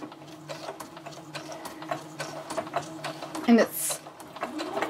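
A sewing machine stitches zigzag and then straight stitches on a birthday scrapbook layout. Its mechanical whirring runs in short bursts close to the microphone, with a person talking over it.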